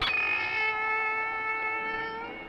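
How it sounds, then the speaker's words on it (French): A long, drawn-out cat meow with a clear tonal wail, sustained for a couple of seconds and slowly fading, heard on its own. "J'entends un chat qui miaule."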